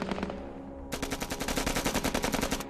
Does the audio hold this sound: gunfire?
yes